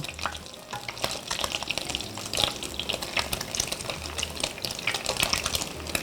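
Continuous crackling and sizzling of food being deep-fried a second time in hot oil, steady and close, with a faint low hum underneath.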